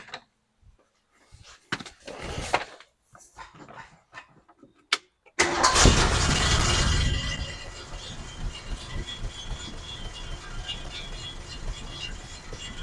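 A 1967 Lincoln Continental convertible, sitting for several days, is started from cold: a few quiet clicks and movements, then the engine cranks and bursts loudly to life before settling into a steady, rumbling idle.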